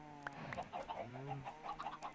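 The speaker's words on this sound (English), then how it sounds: "All you chickens, we need more chickens." Chickens cluck repeatedly in the Minecraft game during a session of breeding animals, short soft clucks coming in quick irregular bursts, moderately close with no talking.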